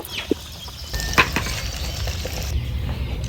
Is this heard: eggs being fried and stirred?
yes